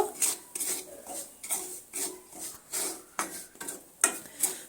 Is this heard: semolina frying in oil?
yes